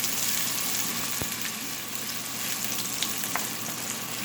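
Ginger frying in a pan for oyster sauce chicken makes a loud, even sizzle throughout, with a single sharp tap early on and no talking.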